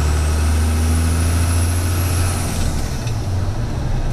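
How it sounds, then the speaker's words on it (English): A 1978 Chevrolet one-ton squarebody dually pickup with a 12-valve Cummins diesel lets out a high, thin turbo whistle that climbs and then fades over a loud, deep, steady engine rumble. "Pretty hard to beat that turbo noise, right?"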